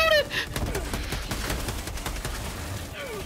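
Rapid gunfire in the video game Helldivers 2, a burst of dense, repeated shots that taper off over a few seconds, loud and close, with a voice talking over it.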